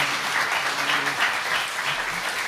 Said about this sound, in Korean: 감사의 마음을 담아서 큰 박수 드리겠습니다